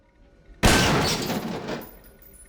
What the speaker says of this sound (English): shooting the can of worm juice will cause these giant worms to burst out